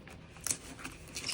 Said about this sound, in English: Yeah, this is a palette knife, and I'm just going around this and